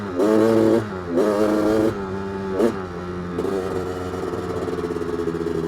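A 1985 Honda 250R engine, flooding out, revved hard at full throttle in several loud close bursts, dropping back to a rough, uneven idle between blips and settling into a sputtering run.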